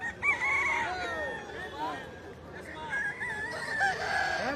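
Roosters crowing at a rural cockfight gathering, several overlapping drawn-out crows rising and falling through the crowd's noise, loud and close, with people talking in the background.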